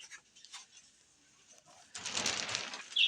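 Cockatiels call in a bird house, with faint, brief chirps early on, then a louder burst of rustling and bird sounds near the end.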